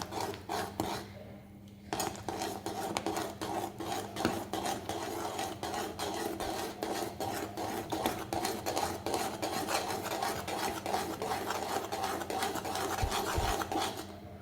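Wheat flour sheera being stirred in a pan with ghee, a continuous, fairly faint rasping scrape of spoon against the pan with quick repeated strokes.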